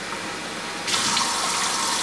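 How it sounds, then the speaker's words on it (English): Water poured from a container into a pot of rice, starting abruptly partway through as a steady splashing gush that carries on to the end, with no talking. "for 3 cups of rice, I'm adding 3 cups of water."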